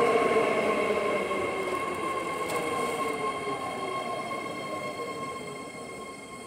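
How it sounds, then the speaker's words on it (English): A train arrives and keeps running, a loud steady rumble of rolling rail cars with sustained tonal whine and a faint squeal near the start, continuing without voices. "Oh, that's my train, you guys."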